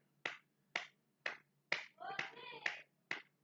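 Rhythmic hand clapping from a church congregation, about seven sharp, evenly spaced claps close by, with a brief voice rising between them.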